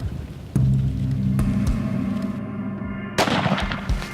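A single loud rifle shot from a hunter firing at a bull, a sharp close blast followed by a long rolling echo and a rumbling tail, then later bursts of handling noise.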